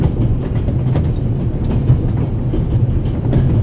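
A train moving on rails in the video game The Raven Remastered makes a loud, steady rumble with faint rhythmic clatter throughout, and no voices.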